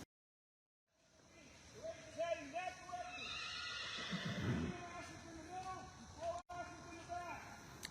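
Newly gelded donkeys at a pack burro race let out repeated braying calls against a steady, loud backdrop of crowd chatter and voices.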